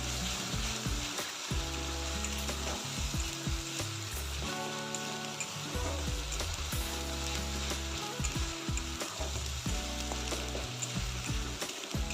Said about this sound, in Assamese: সেইখিনি ভালকৈ ভাজিম।